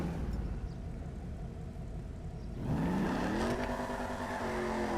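A car accelerates in GTA 5, its engine hum suddenly rising into a loud, climbing rev that pitches upward steadily as it picks up speed, with no talking.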